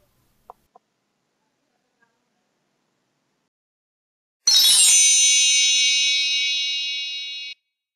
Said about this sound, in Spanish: activen la campanita de las notificaciones